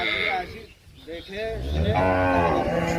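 A dairy cow giving 16 to 20 liters of milk moos close by on a farm: a short low call, then a longer, louder drawn-out moo, with faint voices in the background.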